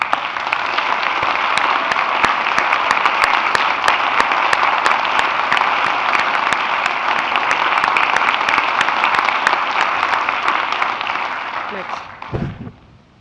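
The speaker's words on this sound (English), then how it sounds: "So I would like Doug to stand so that we can all applaud him." A conference audience applauds a colleague who has been asked to stand, giving dense, loud and sustained clapping for about twelve seconds before it tapers off and stops abruptly.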